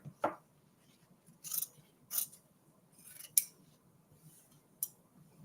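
Scissors snip through the excess fabric of a Christmas tree table runner in several separate crisp cuts, close and fairly quiet, with short pauses between them.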